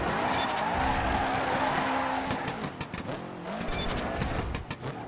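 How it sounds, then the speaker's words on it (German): A rally car in the video game Dirt 3 slides through a drift on asphalt, engine revving hard and tires squealing in long screeches, with a shifting revving engine tone, loud and close throughout. "Das gibt nochmal einen Drift."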